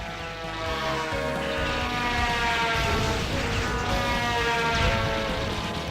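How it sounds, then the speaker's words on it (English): Propeller planes drone loudly overhead in the Metal Slug arcade game, a continuous throbbing engine roar that swells slightly as the aircraft pass, with no talk over it. "Get out of here, planes."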